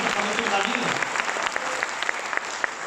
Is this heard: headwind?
no